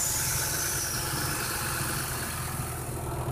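A Kazan city bus idles with its engine compartment hatch open, giving a constant close rumble and mechanical whir that stays even throughout with no voices.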